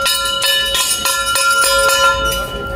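Bell ringing at Budhanilkantha Temple in Nepal, a series of bright metallic strikes roughly every half second, each with a sustained ringing tone, close and fairly loud against a busy background.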